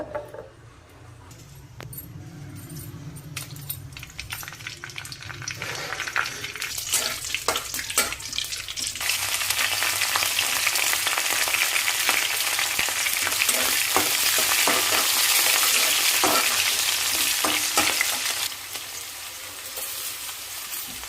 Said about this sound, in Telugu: ఆయిల్ వేడెక్కింది కదా. నేను ఇక్కడైతే పోపులు వేసుకుంటున్నాను.